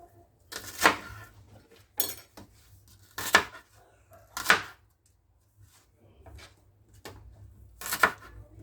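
A knife chops onion on a board in a home kitchen, giving several crisp, separate thuds spaced a second or more apart, close and fairly clear, with soft handling noises between them.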